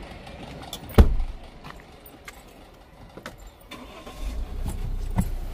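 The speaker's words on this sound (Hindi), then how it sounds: "मेरी तो गाड़ी स्टार्ट हो गई है" A car engine cranks and catches with a sharp burst, then settles into a low idle and revs up again near the end, close by with a few clicks and clunks between.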